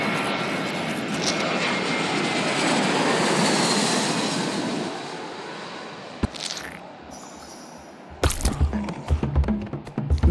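A video-game airplane drones loudly and steadily as it climbs after takeoff, then its engine fades and gives way to a run of clattering, bumpy noises near the end.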